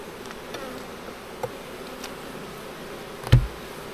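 Honey bees hum softly around an open hive during a summer inspection, a faint continuous buzz broken by a few light clicks and one sharp knock near the end.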